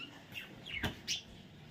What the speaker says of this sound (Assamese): আৰু এইফালে আছে আমাৰ চৰাই